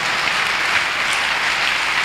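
Church congregation clapping loudly in worship, a dense, steady wash of many hands applauding together, close and sustained without pause.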